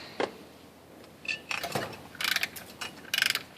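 Metal parts clicking and ratcheting as a rotor and rotor hub adapter for a Heidts Pro G Mustang IRS are screwed together, close-up bursts of sharp clicks in irregular groups with pauses between.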